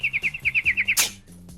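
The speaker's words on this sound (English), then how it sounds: "What's in the box? A teeny tiny bird" A teeny tiny bird in a comedy sketch gives a rapid run of about nine bright, evenly spaced chirps, followed by a sharp noisy burst and a quieter low hum.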